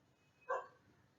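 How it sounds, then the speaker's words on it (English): A dog barks once outside, coming in through open windows during a classroom-style lecture recording; the short bark is moderately distant against a quiet room. "Purposely, I haven't kept windows shut while recording this lecture so that you can hear the sound of dogs and birds."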